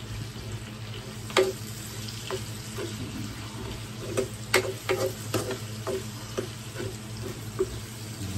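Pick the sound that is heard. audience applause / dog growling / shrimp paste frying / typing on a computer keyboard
shrimp paste frying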